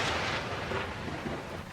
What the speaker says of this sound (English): A storm jolted me awake